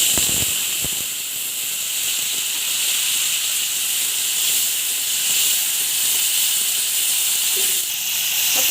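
Jackfruit seeds and green chillies fry in a hot pan with a loud, steady, broad hiss, close and continuous, with a few faint clatters near the start and no talk.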